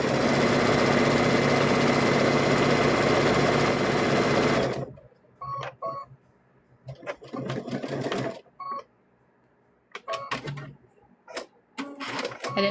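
A sewing machine runs steadily for several seconds, loud and close, stitching a quarter-inch seam around all four sides of a quilt block, then stops and is followed by scattered short clicks and brief fabric handling.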